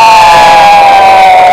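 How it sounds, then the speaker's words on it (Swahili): A large crowd at a Uhuru Torch (Mwenge wa Uhuru) community event applauds and cheers for a woman, a loud, dense, continuous roar of clapping and voices with a steady whistle-like tone running through it. "Makofi mengi kwake bibi"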